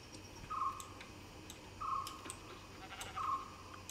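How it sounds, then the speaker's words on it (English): Sheep bleat in Minecraft, played on an SMP server, three short identical bleats spaced about a second apart over faint ambient ticking and soft background noise. "Got some sheep, that scared me."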